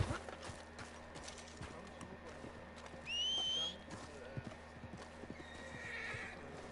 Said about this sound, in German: Pferdchen.